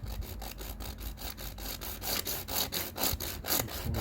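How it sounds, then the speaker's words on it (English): A fine-tooth saw cuts through a plastic boiler condensate pipe in quick, even back-and-forth strokes, close and fairly loud, each stroke giving a sharp rasp, with no one speaking. "you need a fine tooth saw"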